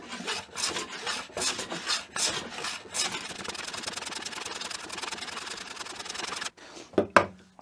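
A Stanley Bailey hand plane shaves figured, wild-grained wood in a series of close, raspy strokes, several quick passes followed by a longer steady stretch, then a pause and a couple of final short strokes.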